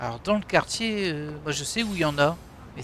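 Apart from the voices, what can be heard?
None of the usual background noises is heard.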